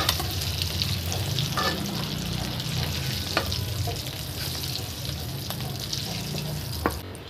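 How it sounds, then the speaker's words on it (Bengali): Eggs fry in hot oil in a pan with a loud, continuous sizzle, broken by occasional sharp scraping clicks of a utensil. "আমার এখানে ডিমগুলো ভাজা হয়ে গেছে।"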